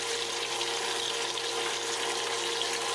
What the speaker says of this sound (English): It's frying.